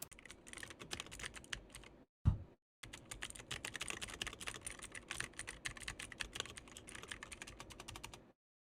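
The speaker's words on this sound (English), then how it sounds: "Trying out closer to the keyboard now." Rapid, continuous clattering of a computer keyboard typed close to a Maono HD300T dynamic microphone, loud and busy with one brief pause midway.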